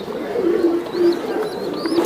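Racer pigeons at a bird sale cooing steadily in a low, continuous murmur at close range, with faint higher chirps from squabs above it.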